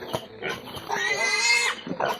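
A farm pig, kept near goats, lets out a nasal, squealing oink that swells and fades over about a second, heard close amid brief surrounding rustles.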